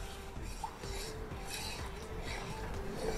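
Tapioca flour and water being stirred in a pot, a steady scraping and rubbing of a spoon against metal with faint clinks, continuous and close, no talking.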